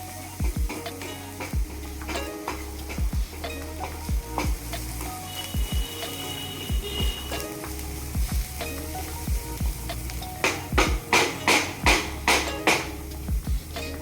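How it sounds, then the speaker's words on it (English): Food sizzles steadily in a hot pan while being fried until tender and brown, with repeated scraping and tapping as it is stirred, close and fairly loud and no talking. "This one we going to fry it till it's tender and brown"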